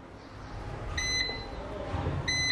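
An oven timer beeps in a home kitchen, giving two short electronic beeps about a second apart, each followed by a brief tone, over a low background hum.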